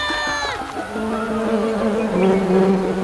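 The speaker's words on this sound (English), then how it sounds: "What's that buzzing noise?" A steady, droning buzz of bees from Gigantosaurus The Game fills the clip, joined partway by a rising electronic tone, like game sound effects.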